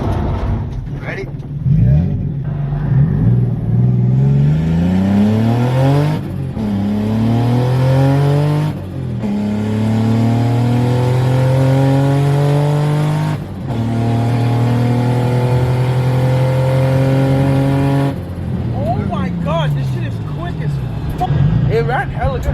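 Turbocharged BMW E36 engine accelerating while driving, heard from inside the car in repeated rising revs through several gear changes, loud and close, with brief pauses at each shift.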